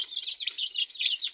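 Andijan black breed chicks peeping, a dense continuous chorus of high chirps close by, with no voices.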